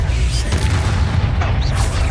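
Booming explosion spells go off in Hogwarts Legacy, a loud, steady low rumble of blasts that stays heavy for the whole stretch without letting up.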